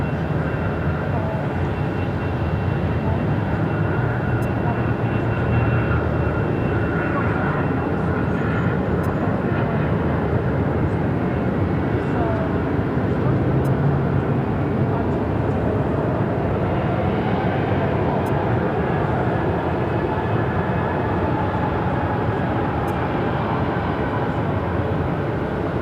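An airliner rolls down runway 7 left at Phoenix airport for takeoff, its jet engines giving a steady, loud, broadband roar that holds through the whole stretch, with radio chatter faintly underneath.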